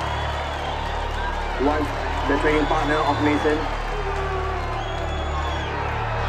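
Boxing arena crowd at a title match, a broad murmur and scattered cheers rising briefly, heard under a ringside announcer's voice.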